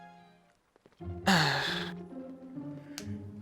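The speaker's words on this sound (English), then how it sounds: "Oh god, that yawn." A drawn-out yawn rises out of near-silence, swelling loud and breathy for about a second before trailing into a low murmur, with a brief sharp click near the end.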